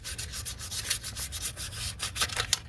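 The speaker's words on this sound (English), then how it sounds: "It's really fine sandpaper. Use that to clean off the surface" Fine 1000-grit sandpaper rubs across a vehicle throttle body surface in quick, rhythmic back-and-forth strokes, soft and close with a dry scratchy hiss and no talking.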